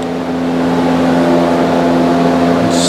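A Toyota Corolla four-cylinder engine idles at a steady, even hum from close by, running alone without talk.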